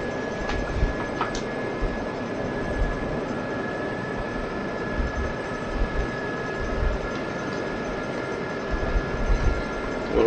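The rotor of a Gazelle helicopter in DCS whirs and thrums steadily as the helicopter lifts off for takeoff. It is a continuous, fairly loud drone with faint rhythmic pulsing and no speech.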